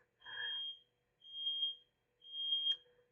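An oven timer alarm sounds three evenly spaced, shrill electronic beeps, each about half a second long, clear and alone in a quiet room.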